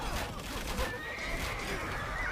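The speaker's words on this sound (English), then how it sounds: "More horses coming forward." Horse whinnying in an Age of Empires 2 match, a drawn-out neigh riding over a dense bed of battle noise and hoofbeats, with a faint voice underneath.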